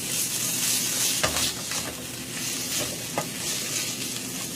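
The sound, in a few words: scrambled eggs frying in oil for an omelette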